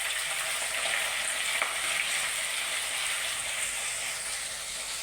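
Finely chopped ginger and garlic fry in oil in a pan, giving a steady, moderately loud sizzle with a faint bubbling hiss and one brief tap of a utensil.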